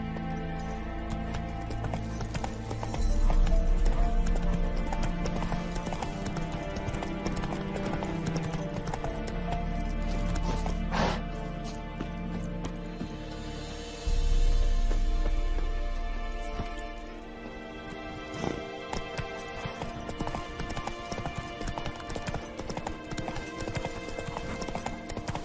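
Roach the horse galloping in The Witcher 3: Wild Hunt, a steady, loud rhythmic clip-clop of hooves running for most of the stretch over a continuous game soundscape.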